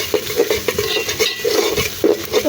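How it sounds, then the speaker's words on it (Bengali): Chili and turmeric powder fry in a pan with a soft sizzle, while a spoon scrapes and clinks against the metal in uneven, close stirring strokes. "এখন মশলাটা ভেজে দেবো।"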